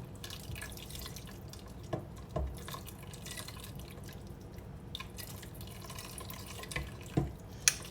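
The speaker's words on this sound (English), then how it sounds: "Now that our broth is ready, we're gonna be pouring it slowly in the soup again." Hot chicken broth poured slowly into avgolemono soup, heard as a steady trickle with drips and a few sharper splashes throughout.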